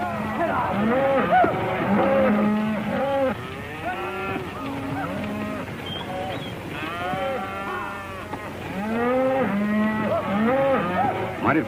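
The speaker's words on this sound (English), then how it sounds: "Mighty fine cattle, boss." A herd of cattle on the open range lowing and mooing over and over, several overlapping calls near and far, loud and steady across the stretch with a ranch crowd murmuring faintly underneath.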